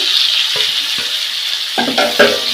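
Mint, curry leaves, coriander and tomato fry in a pan for seasoned fried rice, a steady close sizzle throughout with a few stirring scrapes and clinks near the end.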